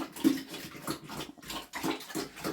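Pigs grunt and snuffle in rhythmic bursts close by, with brief pauses between the low, rough calls.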